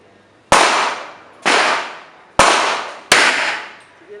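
Four sharp, loud gunshots ring out at a firing range, unevenly spaced about a second apart, each followed by a fading echoing tail.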